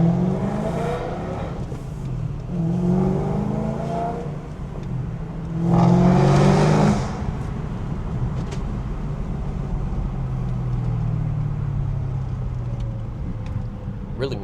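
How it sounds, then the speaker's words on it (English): BMW E90 M3 with its V8 and six-speed manual, heard from inside while driving: a steady low engine drone with a couple of brief rev swells, one louder near the middle, then settling back to a constant cabin rumble. "Really missed driving this car."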